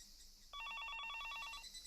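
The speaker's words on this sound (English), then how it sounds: "I heard the phone ringing downstairs." A telephone rings downstairs in the video game Higurashi When They Cry Hou, a steady rapid electronic trill starting after a short quiet pause and continuing loud and clear for over a second before cutting off.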